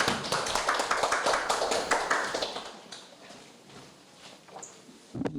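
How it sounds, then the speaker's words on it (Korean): An audience at a labor policy forum gives applause to welcome a speaker: brisk, crowded clapping for a couple of seconds that thins out and fades to quiet, heard from some distance in a hall. "박수로 환영해 주시기 바랍니다."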